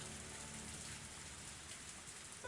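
Heavy rain pours steadily in the ambience of the Higurashi visual novel game, a dense unbroken wash of downpour with no pauses and no voices.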